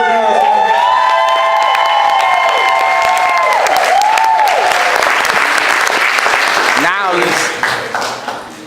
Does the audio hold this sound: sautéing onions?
no